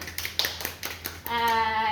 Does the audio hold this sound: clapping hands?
yes